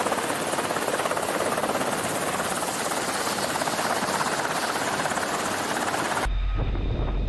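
Helicopters on the USS America flight deck give off a steady, loud rotor and engine roar that continues unbroken, then cuts off abruptly near the end, with no speech over it.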